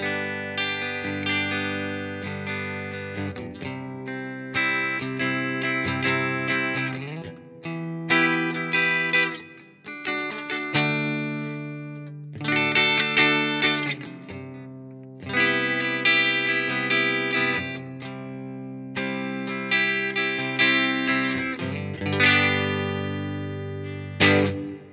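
Clean electric guitar through its original bridge pickup, chords and single notes played in phrases, bright and twangy with a touch of effect, no voices.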